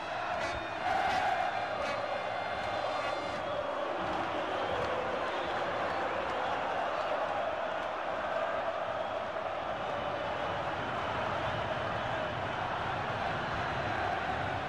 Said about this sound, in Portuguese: a torcida do Flamengo usa e canta a música que ela mais gosta de cantar no Maracanã